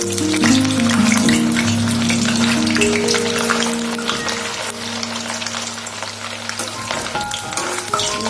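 Lalmohan sweets sizzle steadily in hot oil in a pan while being stirred now and then, a loud, continuous frying hiss with a low hum underneath.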